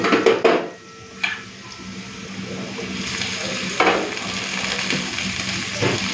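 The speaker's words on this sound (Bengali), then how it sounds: "এরপরে আমি ঢেঁড়সটা দিয়ে দেবো।" Okra added to potatoes already fried with nigella seeds sizzles steadily in a pan, with a loud clatter of stirring at the start and a few scraping knocks later.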